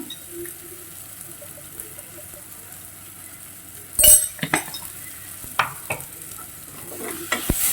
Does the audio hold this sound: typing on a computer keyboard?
no